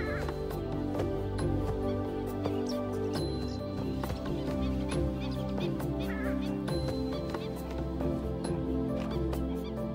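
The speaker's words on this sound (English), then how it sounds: "This is the purple swamp hen, also called the sultana bird, famed for its very loud, explosive call." A purple swamp hen, also called the sultana bird, gives loud honking, hooting calls in a wild Asian wetland. The repeated harsh notes carry over a steady background.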